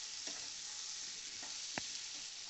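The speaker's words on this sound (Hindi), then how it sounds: "इसको अच्छे से फ्राई करेंगे अरबी का पानी सूखने तक" Taro root (arbi) frying in a pan until its moisture dries out, a faint steady sizzle with a few soft spatula scrapes and one brief clack.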